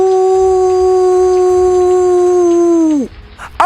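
A fox howls in a cartoon story, one long sustained voiced howl held steady for about three seconds before sliding sharply down and cutting off, followed by a brief noise.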